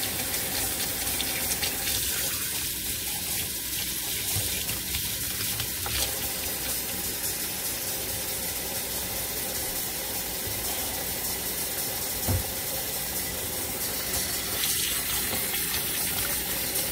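A water tap runs steadily as soap is rinsed from freshly dyed yarn, a continuous hissing splash with faint clinks of sink mechanics, no talking.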